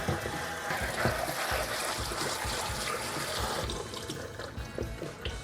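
Cooked potato fries for low-calorie oven fries are strained and rinsed under cool running water at a kitchen sink, giving a steady, close splashing and gushing that eases slightly toward the end, with no talk.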